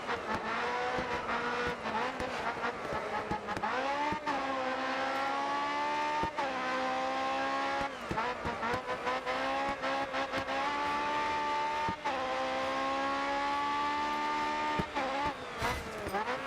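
Race car engine in GRID Autosport during an endurance race, a steady loud drone whose pitch repeatedly dips under braking and climbs through the gears, with brief tyre squeals between shifts.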